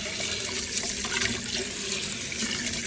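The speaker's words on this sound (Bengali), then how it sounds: "দেখুন আমি সুন্দর করে ওয়াশ করে নেব।" Rice and lentils for khichuri rinsed together under running water in a sink, with a steady, full splashing and trickling stream that carries on for the whole stretch, close and moderately loud.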